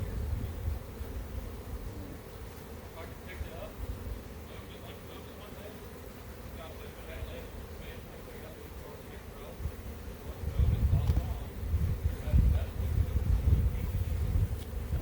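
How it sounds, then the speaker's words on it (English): Honey bees buzz around an open hive during a colony split, a steady low drone with louder swells of buzzing near the end, under occasional quiet talk. "This bee's interested in this one."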